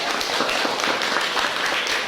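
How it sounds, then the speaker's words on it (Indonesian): A classroom of students claps after a presentation, a brief dense patter of many hands that stays steady and fairly even for a couple of seconds, with no voices over it. "Tepuk tangan yang telah diberikan"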